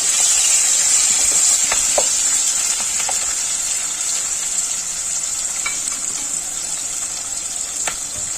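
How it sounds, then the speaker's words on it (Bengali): Capsicum and onion frying in hot oil, a steady close sizzle and crackle with occasional sharp pops, continuous and loud throughout, no talking. "আমি এই তেলেই এই ক্যাপসিকামটা আর পেঁয়াজটা দিয়ে দেবো"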